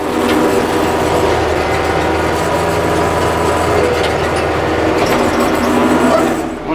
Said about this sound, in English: One thing I don't really like about this tiller is that it's forward drive